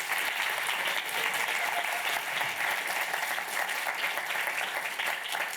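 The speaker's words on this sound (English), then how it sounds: "Another round of applause for our headline ad, Robert Youmans from YouTube." Conference audience at a UX event giving applause to a headline speaker, a full, even roar of clapping from a large crowd that stays loud and constant across the whole stretch.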